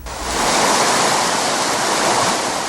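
Floodwater from the overflowing Bogotá river in Villa Pinzón, Colombia, rushes in a loud, steady roar with no letup and no voices.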